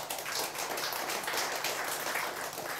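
A church congregation claps together through a sermon, a dense, continuous patter of many hands lasting a few seconds with no talking on top.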